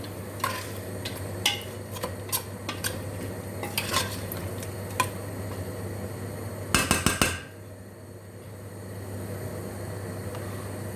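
Spoon scraping the bottom of a pot of boiling chicken with a bit of stuck, caramelized residue: scattered metallic scrapes and clinks over a steady bubbling hum, ending with a quick cluster of clatters, then low simmering.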